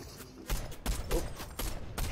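Gunfire in the battle royale game Fortnite: four or five loud, separate bursts spaced roughly half a second apart over a steady background of game noise.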